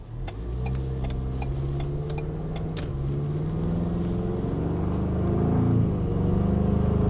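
A 2021 Ford Bronco with a 2.3L engine and a K&N cold air intake idles and revs under load. A steady, close mid-pitched engine drone rises gradually in pitch and intensity with no talking.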